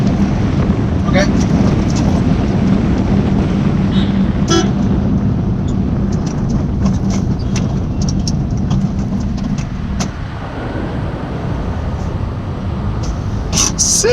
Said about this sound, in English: Signal! Bangalore traffic.